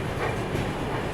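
A train pulling into Vijayawada Junction railway station gives a steady, close rumble of rolling wagons and track noise, continuous and fairly loud throughout with no voices.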